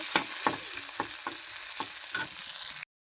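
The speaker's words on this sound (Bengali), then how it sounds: "আলুগুলো দিয়ে দিয়েছি আর একটু ভালো করে ভেজে নেব" Potatoes frying in oil in a pan give a steady, close, bright sizzle, broken by a few scraping stirs, before stopping abruptly near the end.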